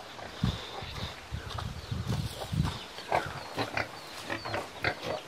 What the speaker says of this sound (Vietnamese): Lợn thì hai con rất là to